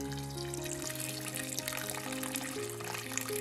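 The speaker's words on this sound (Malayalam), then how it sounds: "എന്നിട്ട് കുറച്ചുകൂടെ വെള്ളം ഒഴിക്കാം." Water poured into a pot of erissery curry with yam and beans, a steady continuous pouring with soft music underneath.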